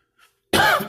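A single harsh, close cough bursts out after a brief quiet breath, loud and abrupt from someone with a lingering cough and possible mild pneumonia.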